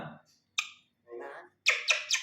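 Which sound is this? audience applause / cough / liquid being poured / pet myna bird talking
pet myna bird talking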